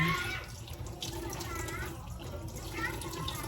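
Tap water runs steadily into a sink while used dishes are washed at home, a continuous splashing stream with faint voices and household noise in the background.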